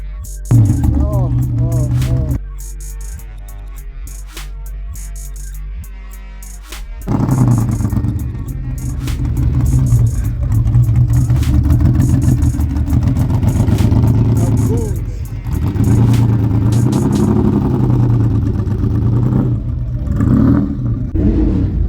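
A Lamborghini Countach at an East Rand car show, its engine revving loudly in repeated rising surges with a sustained roar, close by, amid crowd noise and voices.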